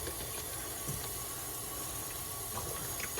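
Hot water mixed with powdered oxalic acid pours and rinses steadily down into a mower part, a continuous close splashing hiss with no talk.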